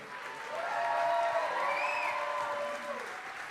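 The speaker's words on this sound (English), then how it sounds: "Let's give it up one more time for Gabriel" A live music venue crowd claps and cheers steadily for several seconds after a performance, a bright whistle rising over the applause.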